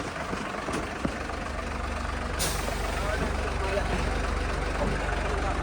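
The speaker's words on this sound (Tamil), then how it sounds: "அடுத்தது பெரிய ட்ரக்கு நிறுத்தி இருக்கு" A big truck stopped at a roadside on a hitchhiking route between Nagaland and Manipur, its engine idling in a steady close rumble, with a brief hiss like an air brake partway through.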